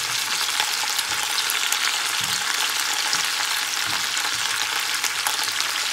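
Potatoes fry in a skillet with a steady, loud, close hiss of sizzling oil, broken by a few soft stirring scrapes and with no voices heard.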